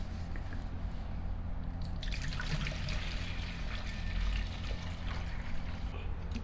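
Vinegar poured into a container while restoring a Penn 704z fishing reel, a quiet steady trickle and splash that starts about two seconds in and keeps going, close over a low background hum.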